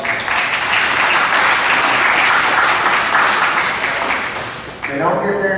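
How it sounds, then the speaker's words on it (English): An audience at a middle school awards assembly applauds students, a loud, dense, sustained wash of clapping that dips briefly before a voice begins speaking over its tail. "So let's give all these guys a round of applause."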